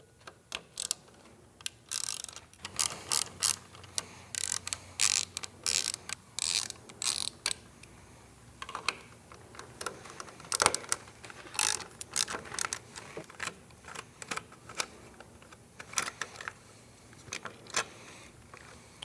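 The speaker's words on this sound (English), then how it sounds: "we're gonna take a T20 and we're gonna pull out our 2 screws to take our switch housing apart" A T20 driver backs screws out of a motorcycle switch housing on an Indian Challenger, giving close, quiet ratcheting clicks in short irregular bursts with brief pauses between them.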